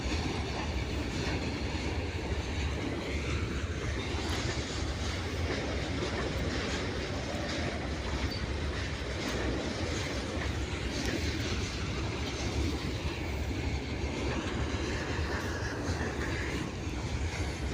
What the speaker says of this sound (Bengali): এই দেখো গাইস, ট্রেন যাচ্ছে।